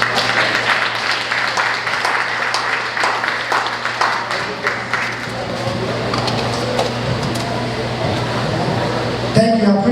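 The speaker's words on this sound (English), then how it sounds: "Clap it up again" Applause from an audience at a community meeting, dense clapping that runs for most of the stretch before thinning toward the end, with a steady room hum underneath.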